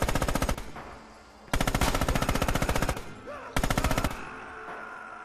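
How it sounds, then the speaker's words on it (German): Three long, rapid bursts of machine gun fire from the World War II shooter game Red Orchestra 2: Heroes of Stalingrad, loud and close, separated by short gaps with fading echoes. "Das ist wirklich übel mit dem MGs."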